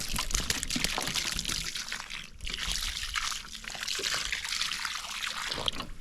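Water poured onto the ground around a newly installed archery net post to saturate the soil, a steady splashing and trickling stream, close and continuous for several seconds.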